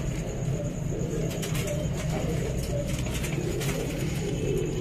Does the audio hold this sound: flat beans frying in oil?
no